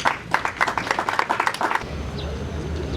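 Members of the National Assembly clap in a short, uneven burst of close individual hand claps for under two seconds, then it trails off into room hum.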